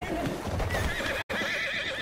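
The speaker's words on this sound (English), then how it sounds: "Killed my horse." A horse in the video game Battlefield 1 whinnies loudly and close while hooves clop steadily throughout, broken by a brief cut of silence midway.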